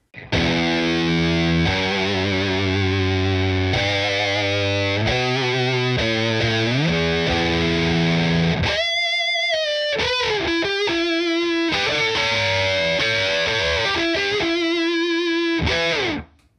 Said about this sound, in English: the Vintage Distortion is a little louder